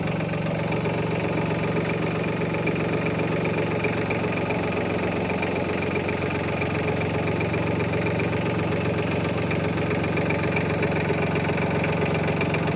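A mini tractor engine idles steadily, a constant even rumble with a fine rapid knock, running alone without change for the whole stretch.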